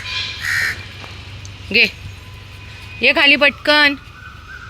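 Crows calling in short harsh bursts while being fed at a street feeding spot, several caws clustered near the end, with a person talking between them.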